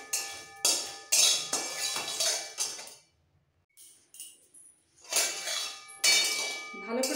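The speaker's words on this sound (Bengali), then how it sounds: "এবারে সমস্ত মশলাগুলো একটু ড্রাই রোস্ট করে ভালো করে একদম মিহি করে" A metal spatula scrapes and clanks against a pan while whole spices, including coriander seed, dry-roast for a potato curry. Loud, irregular bursts of clatter are separated by a brief quiet pause.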